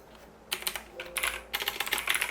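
Typing on a computer keyboard during Autodesk Inventor 2022 drawing work, a few quick bursts of close keystrokes separated by short pauses, with no talking.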